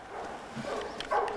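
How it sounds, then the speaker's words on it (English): Hunting dogs bark at a distance during a driven wild boar hunt in the woods, with a few scattered yelps rising into a louder burst near the end. "The barking of the dogs signals that another sounder will soon appear."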